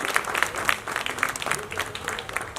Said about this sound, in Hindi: इसके लिए इनके लिए जोरदार तालियां यहाँ पर होनी चाहिए